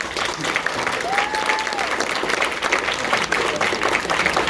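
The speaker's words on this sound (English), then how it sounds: "I didn't expect applause for that." Outdoor crowd applause at a political campaign rally at The Grove in Los Angeles, dense steady clapping and cheering with a brief whistle, fairly loud throughout.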